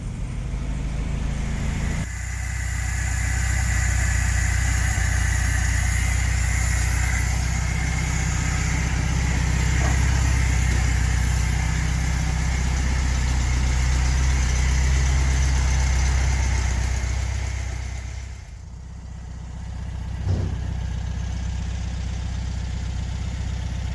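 A 1973 AMC Gremlin, revived after 30 years sitting in a barn, idles with a steady, loud engine rumble for most of the stretch, then briefly dips before settling back.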